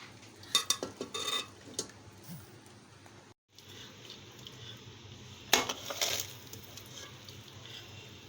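Homemade beef dum biryani stirred and mixed in a pot, soft scraping and clinking of a spoon against metal in short irregular bursts, with a quiet pause midway and a louder burst of mixing later.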